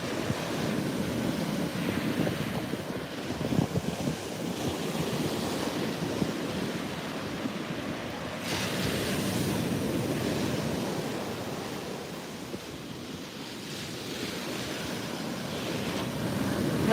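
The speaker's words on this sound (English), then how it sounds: "Well, the tide is definitely coming in." Ocean surf rolling onto a beach as the tide comes in, a steady broad wash with gentle swells and wind buffeting the microphone, continuous and fairly close, with no voices.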